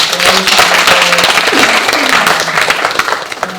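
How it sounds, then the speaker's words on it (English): Loud audience applause at a community gathering, a thick wash of clapping with some voices and a whistle-like tone mixed in, tapering off toward the end. "So let's give them a round of applause"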